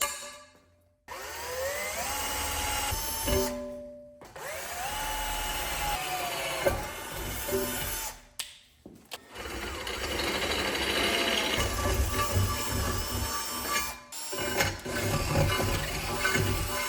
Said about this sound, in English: We'll drill these 2 out first.